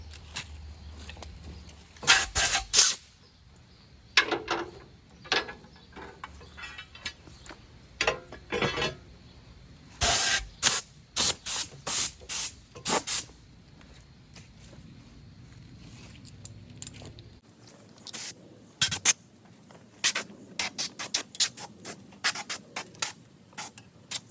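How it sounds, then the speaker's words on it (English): Bursts of compressed air and WD-40 spray cleaning parts of a McConnel power arm during a rebuild, with many short hissing blasts of varied length coming close and loud, separated by brief quiet gaps. "So all that's going to be sprayed in there once I get a few squirts in with air, just to clean up the whole thing."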